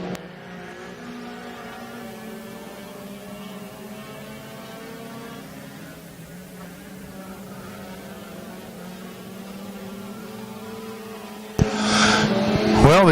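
Hornet class race cars run a late-lap heat race on the oval at Lake Ozark Speedway, several engines droning steadily at mid distance with layered overlapping tones, then a louder, nearer roar surging in over the last second or so.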